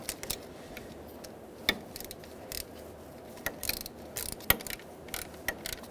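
A ratchet wrench clicks in short, irregular bursts of sharp ticks while torquing intake manifold bolts on a 2000–2007 Ford Taurus 3.0L V6, close and fairly quiet with pauses between pulls.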